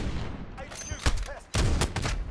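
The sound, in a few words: gunshots in Modern Warfare video game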